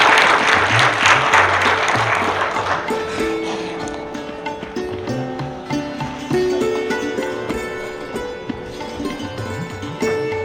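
Applause from an audience at a family get-together, a dense burst of many hands clapping that fades over several seconds while music plays on underneath.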